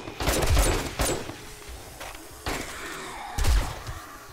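Gunfire in 7 Days To Die during a horde night: several sharp, loud shots, with single cracks and short clustered bursts spaced irregularly over quieter game ambience.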